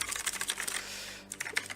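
Quick bursts of clacky keystrokes on a cheap 25-euro mechanical keyboard, close and fairly quiet, in a short run of typing with a brief pause before a few more taps.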